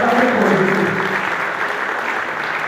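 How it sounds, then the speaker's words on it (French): Church congregation applauding and cheering for Jesus during a service, a dense, steady wash of clapping and joyful shouts from a crowd that holds loud throughout before easing slightly. "Est-ce qu'on peut acclamer pour Jésus?"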